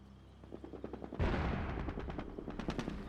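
MG42 machine gun fire in the strategy game Company of Heroes, a rapid stuttering burst that breaks into a louder booming impact, followed by continuing staccato shots over battlefield rumble.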